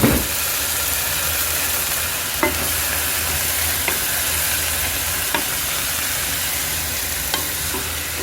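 Chicken pastil simmering with chicken broth in a pan gives a steady bubbling hiss throughout, with a few faint clicks or stirring taps at intervals.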